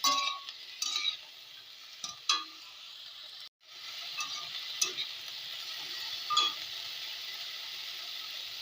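Potato and bottle gourd peel frying in a pan, a steady soft sizzle broken by occasional scrapes and taps of a spoon stirring, close by and with no voices.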